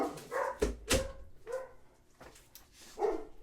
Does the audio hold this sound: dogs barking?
yes